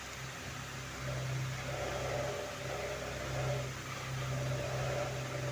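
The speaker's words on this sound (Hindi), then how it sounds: "तो ये देखिए हैंड बीटर है, इसके साथ मैं इसको मिक्स करती हूँ अच्छी तरह से" An electric hand beater whirs steadily as it mixes a homemade chocolate syrup made from two ingredients and no chocolate. The motor hum is faint and continuous and swells slightly a few times.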